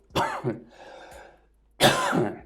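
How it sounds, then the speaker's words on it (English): Two harsh coughs close by, the first a quick double burst, then a pause with faint breathing, then a longer rough cough. "I tried to edit the coughs out."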